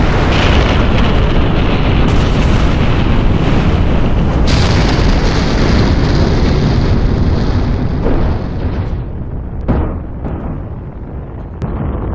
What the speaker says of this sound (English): Dropping bombs in 3,